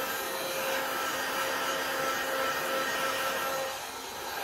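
Heat gun blowing over a black, white and gold 3D flower resin bowl, a steady, close airy whoosh that holds level and eases slightly toward the end, with no talking.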